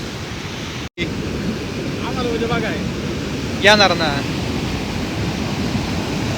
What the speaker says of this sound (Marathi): तर नदीला यंदा एवढा मोठा पूर आलाय